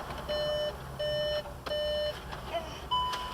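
Three steady electronic beeps in a regular on-off pattern, each lasting about half a second, followed by a couple of shorter chirps, with low background rumble.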